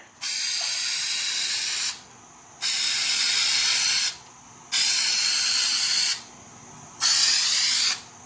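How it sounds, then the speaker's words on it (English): 3M Super 77 spray adhesive hisses from an aerosol can in four steady bursts of about two seconds each, separated by short pauses, close and loud over a plastic-covered workbench. "So this glue, the spray on this is pretty accurate."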